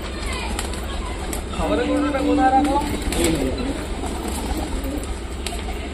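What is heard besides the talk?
pigeons cooing indoors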